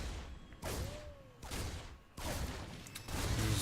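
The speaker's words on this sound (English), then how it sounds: "See those 2 grenades coming down." Reaper grenades exploding in a StarCraft II match, heard as three sharp broadband bursts about a second apart, each fading quickly, over a low game rumble.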